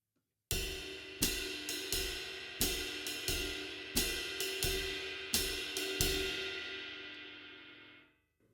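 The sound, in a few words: jazz drum pattern on ride cymbal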